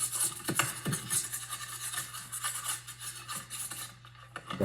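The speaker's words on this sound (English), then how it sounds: "Just going to give it a once over with a soft brush to clean off what the" Soft brush scrubbing dust from the inside of a space heater during servicing: close, continuous rasping and rubbing strokes of varying intensity, over a low steady hum.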